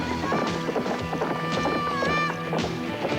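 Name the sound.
horse hooves clip-clopping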